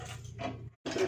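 Gas stove on a kitchen counter being switched on for cooking paratha, a short mechanical click and rasp of the knob, then a brief silence and a second burst of hissing ignition noise, close and fairly quiet.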